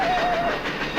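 A train rolls along rails in a radio drama adaptation of Around the World in 80 Days, a loud continuous rumble with a brief whistle tone at the start.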